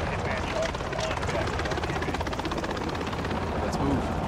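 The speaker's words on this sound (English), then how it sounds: "I'm surprised the Russian military can't pick up those helicopters" Helicopter flying in the video game Call of Duty: Modern Warfare, a steady rotor drone running throughout with voices and game sounds mixed in.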